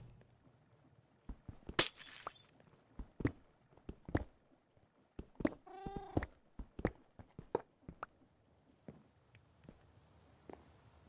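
A cat meows once, faint and brief, in the Minecraft video game, amid scattered clicks, taps and a sharp glassy crash.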